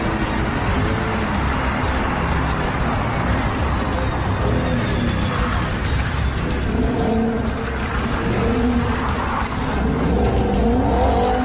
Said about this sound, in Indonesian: Dan terakhir ada mobil balap warna kuning.